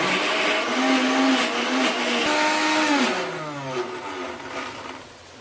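Kitchen mixer grinder finely grinding spices for a Konkani-style bangda fish curry, a loud whirring motor with pitch shifts as the load changes, winding down toward the end.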